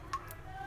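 A few faint, quick ticks come from a washing machine's timer dial as it is turned to five minutes.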